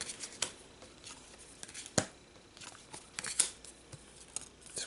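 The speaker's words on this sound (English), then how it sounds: "Let's get Alhazar his cards" Playing cards for the Pathfinder card game are drawn and dealt on a table, giving close, quiet, irregular snaps and flicks of card with soft sliding between them.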